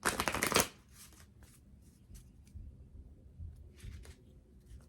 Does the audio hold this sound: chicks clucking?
no